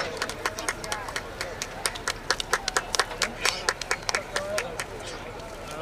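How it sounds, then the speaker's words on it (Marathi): At a village cricket tournament final, a crowd claps as a team walks onto the field, a rapid run of sharp, fairly close claps that is loud and steady throughout. "सर्वांनी टाळ्या वाजवून त्यांचं सहर्ष स्वागत करावे"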